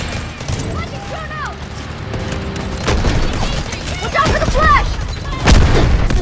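In Delta Force Mobile, booming blasts, including a grenade, and bursts of gunfire ring out amid a noisy battle, with excited voices talking over the chaos.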